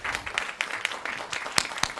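Audience applause at a David Lynch Foundation talk, a steady patter of many hands clapping at moderate volume with a few sharper claps standing out, no speech over it.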